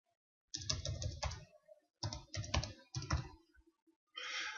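Close, crisp keystrokes on a computer keyboard come in three quick bursts of typing separated by short pauses, with a final burst at the end, no voices over them.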